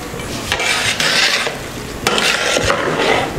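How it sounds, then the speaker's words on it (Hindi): Sweet mutanjan rice with almonds and syrup being stirred and mixed in a pot, giving close scraping, rasping strokes in bursts with short pauses between, loud and without talk. "अब इनको मिक्स करने लगा। ये देखें, ऐसे मिक्स कर दें इनको अच्छे तरीके से।"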